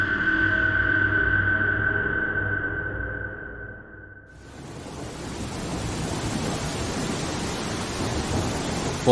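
Steady rain sets in as a broad, even hiss for the second half, following a sustained droning tone that cuts off midway.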